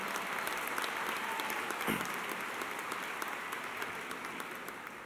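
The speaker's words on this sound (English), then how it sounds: "Let's give our band and orchestra a round of applause." Audience applauding the band and orchestra at a 2018 Kalamazoo public high school graduation ceremony, a continuous, soft, distant wash of clapping that slowly fades.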